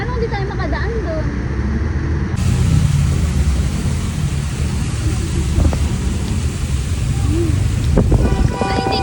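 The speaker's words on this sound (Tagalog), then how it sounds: "Titigil ba tong ulan na to?" Heavy rain falls steadily during a typhoon in Marikina, a dense roar close by with traffic rumble underneath and people talking over it.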